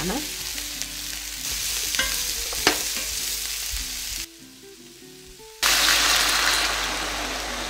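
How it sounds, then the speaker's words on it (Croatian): Onion, garlic and chopped carrot fry in oil in a pan, a close, constant sizzling hiss with occasional stirring scrapes, briefly quieter before surging louder again. "Pržite dok ne dobije zlatno žutu boju."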